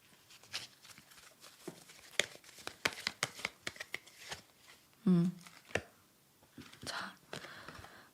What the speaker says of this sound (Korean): 두 분의 관계에 대한 천사의 카드도 한번 뽑아보도록 할게요